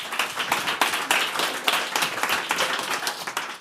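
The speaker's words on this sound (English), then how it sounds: "So round of applause." An audience at a tech policy conference talk applauds after a presentation, dense continuous clapping close and steady throughout.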